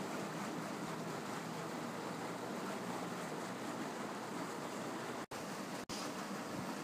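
Continuous churning, rushing water noise from a de-icing bubbler around a boat in New Haven Harbor, steady and close, with a couple of brief dropouts near the end.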